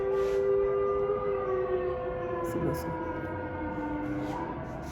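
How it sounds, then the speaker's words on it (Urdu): Civil defense-style siren sounding for iftar on the first fast of Ramadan, a steady wailing tone held throughout at moderate distance over background ambience, with no talk. "دیکھیں پہلا روزہ یہ سائرن ہو گیا افطار کا، سن رہے ہیں آپ؟"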